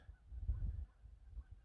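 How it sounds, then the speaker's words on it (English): Faint honking calls of geese or ducks sound in the distance, a few low muffled honks over soft background rumble. "You can hear the ducks or geese in the background, I think."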